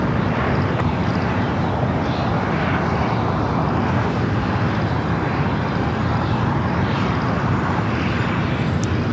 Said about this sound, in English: Asiana Flight 204 coming from Seoul, the A380 Super, just almost over downtown Los Angeles